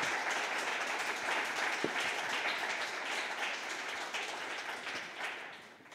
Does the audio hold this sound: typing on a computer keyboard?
no